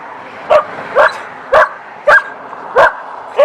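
A dog barks six times at a steady pace, loud and close, with short sharp yips and little else around them.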